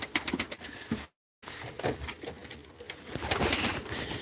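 Soft, low pigeon coos repeat among light fluttering and tapping, with a brief total silence early on; moderately close and fairly quiet.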